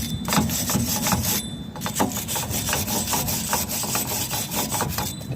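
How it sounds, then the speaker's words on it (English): Rust being scrubbed off a Land Rover Freelander 1 brake hub during a disc and pad change: continuous loud, close abrasive scraping and rasping with a few harsher metallic scratches, no voices. "Get the rust off."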